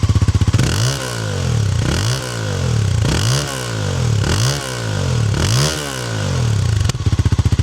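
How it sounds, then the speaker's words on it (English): Voge 300 Rally motorcycle with a blacked-out stealth exhaust, revved repeatedly while stationary: about five loud, close throttle blips rising and falling in a steady rhythm over a burbling idle, with no talking. "It has a blacktail stealth looking exhaust, what of course we need to have a cheeky little listen to."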